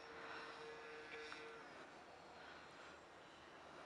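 A Dynam C-47 model airplane's electric motors at full power in flight, a faint, distant, steady whine and whoosh against outdoor air noise, with no voices.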